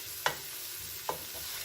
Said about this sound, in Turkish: Tekrardan karıştırıyorum güzelce.